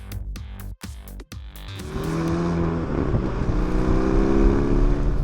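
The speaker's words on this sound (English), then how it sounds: "you brake with your toes and use your heel to blip the throttle just before you downshift" A Hyundai i30 Fastback N engine blips the throttle on a heel-and-toe downshift: a few sharp revving bursts with brief gaps, then a steady, rising engine drone that continues to the end.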